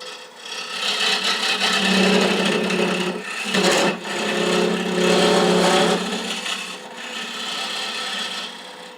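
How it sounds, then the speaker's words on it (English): A shop-made dovetail tool cuts a recess into a Jarrah bowl on a wood lathe, a continuous close scraping hiss with a brief dip near the middle, loud and steady without speech. "I'm going to use my shop-made dovetail tool to come in there and put a recess."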